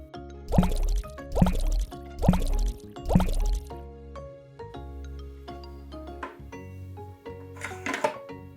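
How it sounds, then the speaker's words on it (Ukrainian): Children's laundry gel is poured into a container, with four thick gurgling glugs in a regular rhythm, then softer drips and plops, close and clear with no talking. "Беремо дитячий гель для прання і заливаємо ось сюди"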